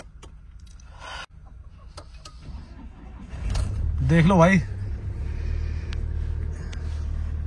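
A car engine starts cold in cold weather, first a low rumble rising at the start, then a steady idle that settles, heard near under a voice.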